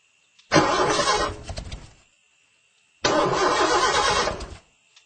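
A car's engine cranks but fails to start on a road trip toward Alice Springs. Two loud, close cranking attempts of about one and a half seconds each are separated by silence, with no voices.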